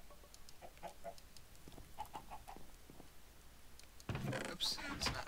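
Minecraft chickens cluck in quiet, intermittent bursts, then a sudden louder cluster of clucks and squawks breaks in near the end, close and busy.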